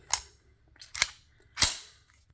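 IWI Jericho 941 pistol being checked clear, with three sharp metallic clacks of the slide being racked and locked, close and crisp, spaced about half a second apart in a quiet room, with no talking.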